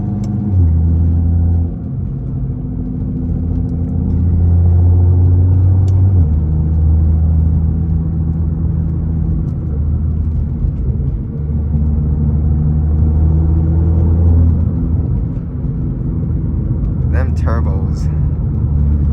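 A Nissan R35 GT-R with a turbo engine drives along a road, its loud, steady low engine drone swelling briefly as the revs climb and then holding a constant pull.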